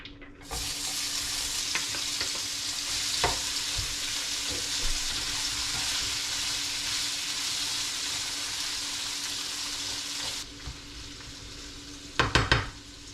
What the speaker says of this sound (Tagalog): Unahin natin itong igisa